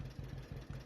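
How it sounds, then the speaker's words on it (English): A tractor engine idles in the farming video game Farming Simulator 25, a low, even chugging with a regular pulsing beat, close and steady with no talk. "So let's jump back on our tractor"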